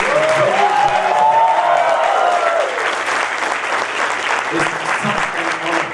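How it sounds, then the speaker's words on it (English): An audience claps for a graduating class at a leadership school convocation, loud sustained applause from a large hall, with a voice rising over the clapping early on before it settles into an even roar. "A huge, huge round of applause for all of you."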